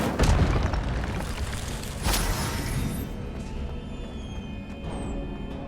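Incendio fire spell bursting in Hogwarts Legacy, a loud booming blast at the start with a second burst near two seconds, trailing into a roaring rumble that fades gradually.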